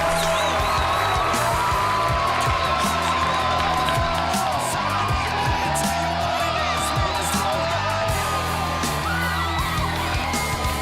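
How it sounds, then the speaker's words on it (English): A live watch-party crowd cheers, yells and whoops for Daniel Cormier, loud and dense throughout with a steady roar, scattered shouts and some voices talking over it. "Let's hear it for Daniel Cormier. Round of applause."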